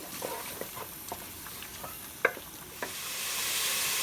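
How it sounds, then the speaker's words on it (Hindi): Chicken frying in oil in a home kitchen pan, a steady soft sizzle with several light scraping stirs and one sharper clink near the middle, the hiss swelling louder toward the end; no voices. "चिकन को फ्राई करेंगे।"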